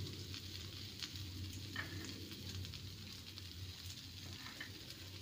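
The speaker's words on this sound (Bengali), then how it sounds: "ভালো করে নেড়ে নিলেই ওটসের পাস্তা একদম রেডি" Oats pasta with chopped coriander is stirred in a pan on a gas flame, producing a faint, even sizzle with light, irregular stirring scrapes.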